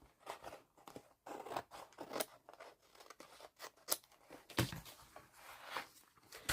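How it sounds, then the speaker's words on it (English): Scissors snip along the edge of a scrap of recycled paper for a collage board. The cuts are short and crisp and come in an irregular run of close, moderately loud strokes with no talking over them. "I'm going to trim this edge too."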